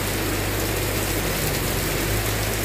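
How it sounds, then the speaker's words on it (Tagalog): Heavy rain pouring down in the Philippines, a loud, dense, unbroken hiss of water with a low rumble beneath, steady from start to finish. "Lihos na ulan."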